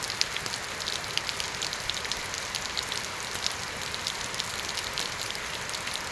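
Heavy rain falling steadily, a dense, even hiss of drops on surfaces with occasional sharper patters, continuous and fairly close with no voices.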